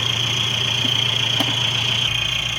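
A Kubota L5018 tractor engine runs steadily outdoors during a test in Roi Et province, Thailand, a constant close idling drone with a high whine and a faint knock around halfway, alone without talk.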